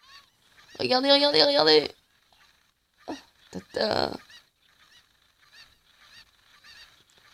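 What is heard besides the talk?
chickens summoned to attack, Zelda Ocarina of Time video game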